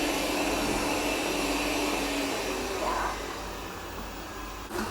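A PatVac 360 V3 hybrid robot vacuum mop runs loudly at maximum suction, a steady broadband roar that eases slightly in volume near the end.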